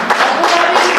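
Applause from a graduation ceremony crowd in Rwamagana, Rwanda, a dense, loud, steady wash of clapping filling the whole short moment with no voice above it.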